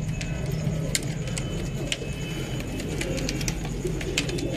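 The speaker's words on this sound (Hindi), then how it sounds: "ये अजी कबूतर माशाल्लाह" Pigeons in a high-class breeding pair coo softly amid background noise, with sharp intermittent clicks and jingling sounds over a steady low rumble.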